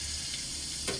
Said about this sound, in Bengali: সর্ষের তেল দিয়ে ভাজবো